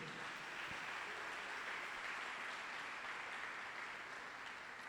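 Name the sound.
congregation applause in church service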